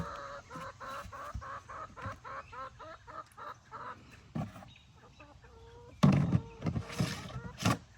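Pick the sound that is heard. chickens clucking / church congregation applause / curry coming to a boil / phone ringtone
chickens clucking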